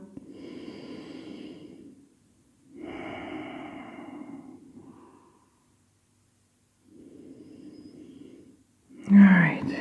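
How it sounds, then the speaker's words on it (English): Slow, deep breaths during a yoga pose, long audible inhales and exhales with pauses between them, close and fairly soft, ending with a louder breath. "Take one more breath."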